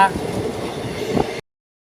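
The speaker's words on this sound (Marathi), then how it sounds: "बोगदा लागलेला आहे बघू शकता एवढी मजा वाटते ना ट्रेनमध्ये" A train passing through a tunnel gives a steady, enclosed rumble with a brief horn-like tone at the start, then cuts off abruptly after about a second and a half.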